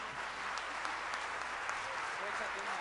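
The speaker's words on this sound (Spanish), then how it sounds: "Dale un aplauso bien fuerte al Señor." Church congregation clapping together in praise during a worship service, a steady, fairly quiet wash of hands that runs without a break from start to end.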